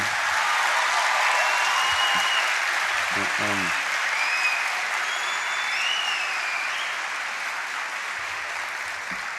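Warm applause from a concert crowd for the orchestra, a broad sustained roar of clapping with faint cheers, while someone speaks briefly over it partway through.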